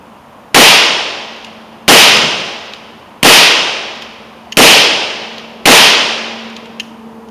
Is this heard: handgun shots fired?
yes